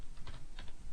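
Fingers typing an HTML font tag on a computer keyboard, a brief close-up burst of a few quick keystrokes.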